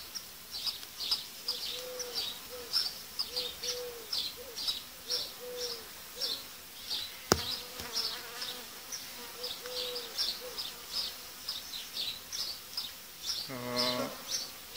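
Honeybees buzz steadily in an open hive during swarm management in warm weather, a dense, continuous drone close by with pulsing surges, one sharp knock, and a brief clucking call near the end.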